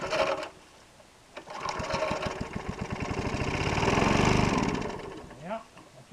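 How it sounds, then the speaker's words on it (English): A small engine with a bad carburetor sputters to life after a pull or two, runs roughly in a buzzing, uneven putter that swells and then dies out, heard close up with no talking. "Obviously the carburetor is no good and needs to be rebuilt again."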